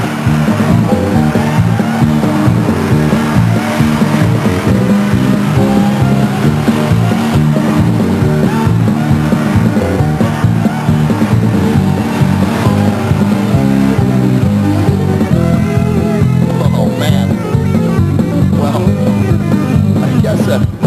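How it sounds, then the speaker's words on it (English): Stock race cars roar loudly and continuously around the Stockton 99 Speedway oval in 1999, their engines droning and swelling as the pack passes, with a faint announcer voice underneath. "Here comes the checkered flag for Jeff Lovelace."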